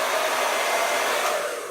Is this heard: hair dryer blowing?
yes